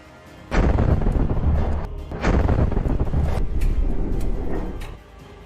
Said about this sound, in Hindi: जैसे ही ये टैंक बारूद वाली जगह पर आते हैं वैसे ही वहां पर एक जोरदार ब्लास्ट होता है